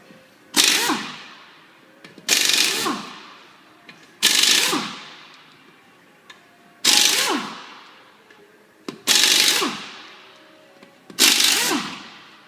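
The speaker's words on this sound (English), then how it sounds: "Once you've got your impact, you're ready to take the lug nuts off." Impact wrench taking wheel lug nuts off during a tire change: six separate loud rattling bursts, each about a second long and fading out, spaced roughly two seconds apart, with nobody talking.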